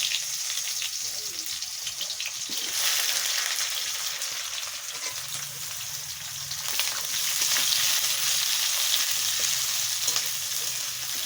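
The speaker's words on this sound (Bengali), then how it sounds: "এইবার আমি পেঁয়াজটা দিয়ে দিচ্ছি" Onion frying in oil in a pan alongside whole cardamom, cloves and a bay leaf for a village-style chicken and potato curry, a steady close sizzle with light stirring scrapes throughout.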